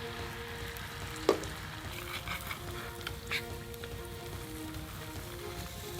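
Beaten egg for a Japanese dashimaki rolled omelette sizzles steadily in a lightly oiled square pan, a soft continuous crackle with one sharp clack of a spatula and a few light scrapes.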